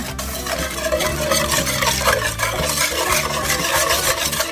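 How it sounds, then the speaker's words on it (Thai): Milk, egg yolk and sugar whisked in a bowl until the sugar dissolves, a continuous close rhythmic scraping and swishing with a low background hum, no talking. "นม 300มลนะคะก็ตีจนกว่าจะละลายเข้ากันละค่ะ"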